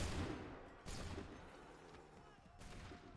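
Gunfire in Assassin's Creed 3, a couple of loud broadband volleys at the start, near one second and again near two and a half seconds, over a continuous rumbling battle din.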